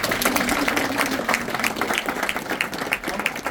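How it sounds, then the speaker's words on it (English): Steady applause from an audience, dense continuous clapping throughout at moderate loudness, no voices standing out. "Give them a round of applause."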